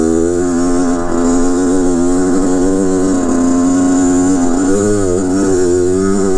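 A 2007 Kawasaki KX 100 dirt bike engine revs hard during a wheelie, a loud, close, continuous buzzing drone that rises and falls in pitch as the throttle changes.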